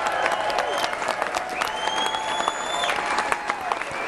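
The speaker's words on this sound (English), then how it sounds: "Let's give a round of applause, everybody." A rally crowd for Ron Paul in Michigan breaks into brisk applause, with scattered cheers and whistles rising over steady clapping at close range.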